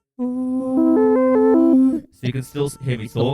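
A sung note runs through an RC505 MKII loop station's auto riff effect at half balance, so the held voice steps up and down in a rhythmic riff; the effect then stops and someone talks plainly.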